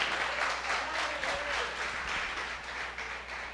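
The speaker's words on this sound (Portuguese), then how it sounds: "Aplauda o Senhor com o seu melhor." A church congregation applauds the Lord during a sermon, a continuous, fairly distant wash of many hands clapping with light crowd murmur, holding steady and only slightly dipping near the end.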